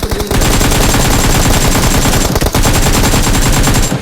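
Rapid, continuous machine-gun fire from an ocean-mode video game rattles loud and close, with one short break before the burst resumes.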